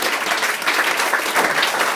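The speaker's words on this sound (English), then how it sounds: "Give a round of applause for everybody who saw." Audience applause at the end of a comedy storytelling show, a steady dense wash of many hands clapping that holds evenly for the whole moment with no voices on top.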